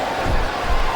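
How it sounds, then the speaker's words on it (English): A wrestling arena crowd cheers and roars in a dense, loud wash of voices, swelling briefly twice within the moment, with commentators' talk blended underneath. "I think these superstars are getting some feedback from the crowd, JR."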